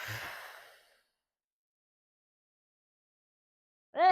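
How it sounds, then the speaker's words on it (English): A hard exhale during a postpartum abdominal crunch exercise: one breathy sigh fading out, then a long silence before a sharp new breath at the end. "Obviously, I breathed real hard there."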